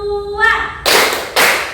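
Classroom counting clap game: after a brief spoken line, a single loud unison clap from a group of students is followed about half a second later by a second, both close and crisp.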